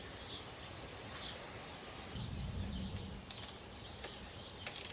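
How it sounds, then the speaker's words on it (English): A 1/4-inch drive ratchet wrench with a 5/16 socket and universal joint tightens drive shaft bolts on a Jeep Cherokee XJ, giving short, quiet clicking bursts over faint background noise. "Use a 1/4-inch drive wrench. Tighten them."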